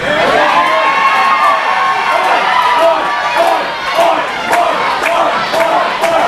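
A packed wrestling crowd in Clearfield cheers and shouts loudly and continuously, a dense roar of voices with whoops rising above it throughout.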